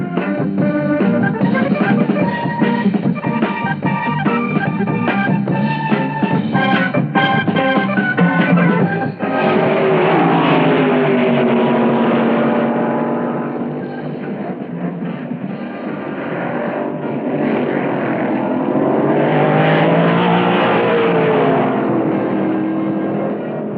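Drag racing cars at an NHRA event roar continuously, engine noise sustained and loud throughout, with a shift in tone midway as another car or pass takes over; no speech over it.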